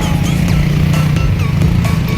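A motorcycle cruising through a subdivision in Dasmariñas, Cavite, with a continuous close engine drone and wind rush, steady throughout and without talk.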